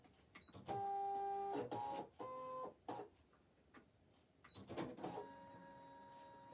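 A small electronic cutting machine loading a cutting mat, with whirring motor tones, stepped mechanical buzzing and clicks in short separate bursts, fairly faint and close on a work desk with no talk.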